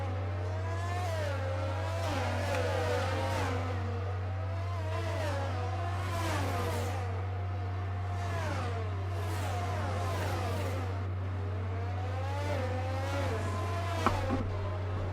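Racing cars running wheel to wheel in the F1 22 video game at Mexico, engines rising and falling in repeated high-pitched revving sweeps as gears change, loud and continuous over a steady low hum.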